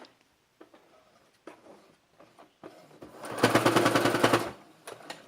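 Sewing machine stitching baby frock pieces together, a single fast rattling run of about a second after scattered handling clicks and rustles, close and moderately loud, no speech.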